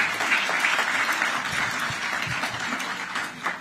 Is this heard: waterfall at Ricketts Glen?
no